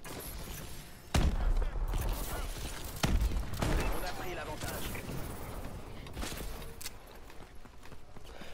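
A blunderbuss shotgun fires in Call of Duty Advanced Warfare, two heavy booming blasts about two seconds apart amid busy game noise and thuds, with someone talking over them.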